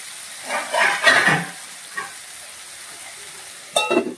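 Mutton curry stirred in a pan, a few short bursts of sizzling and scraping separated by quiet pauses, fairly close.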